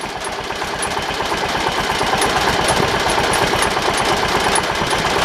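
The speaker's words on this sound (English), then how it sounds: "that motor runs really good though." A 1985 John Deere 212 lawn tractor engine runs steadily nearby, a fast, even mechanical chugging with a rattly pulse and a slight knock, continuous and fairly loud with no talk over it.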